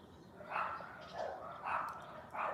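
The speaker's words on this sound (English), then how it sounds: "When she hears all the dogs barking, she joins in." Several dogs bark in a neighborhood in Kalibo, Aklan, Philippines: four short, fairly faint barking bursts come at a steady pace over low background hiss, with no talk.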